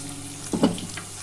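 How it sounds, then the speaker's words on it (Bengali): Fish fat fries in a covered pan, a short burst of sizzling and spattering as the lid comes off, fairly quiet and heard alone without talk. "আমি একটু ঢাকাটা খুলে দেখি মাছের তেলটা কতটা ভাজা হলো"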